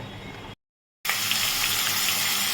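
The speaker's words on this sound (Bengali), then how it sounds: "এবার জলটা ফেলে দেব" A steady gush of water pouring out of a pot after steaming ash gourd, broad and hissing, after a brief silent gap near the start.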